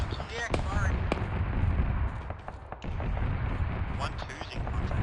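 Artillery and gunfire in ArmA 3, a dense run of sharp reports and booming impacts layered over a constant rumble, with voices talking over the barrage.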